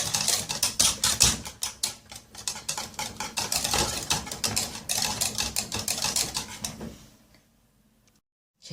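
A spoon stirs butter and vanilla mixture in a bowl for a caramel pudding, giving quick rhythmic scraping clicks for about seven seconds before stopping into near silence.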